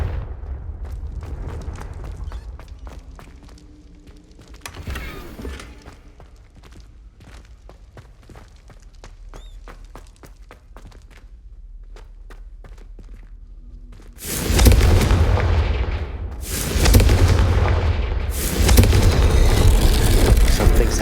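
A Confringo blasting spell goes off in Hogwarts Legacy, a loud broadband explosion bursting in suddenly after a quieter stretch, followed by a second roaring blast that sustains to the end.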